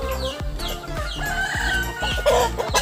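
Chickens of a docile breed cluck steadily and close by, with repeated short calls and a crowing rise near the end, their voices layered over one another.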